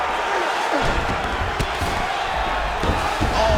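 Crowd roar from a UFC 5 video game arena: a loud, steady wash of cheering that holds throughout, with scattered thuds and bumps over it and no voices.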